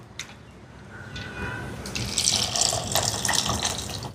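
Water poured into a mixer grinder cup in a kitchen, a steady close splashing stream that fills and brightens as it goes, running alone without talk.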